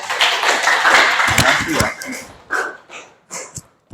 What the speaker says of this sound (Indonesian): Beri tepuk tangan yang baik.